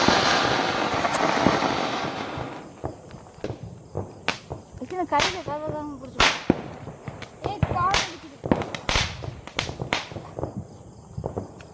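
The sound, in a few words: Diwali firecrackers bursting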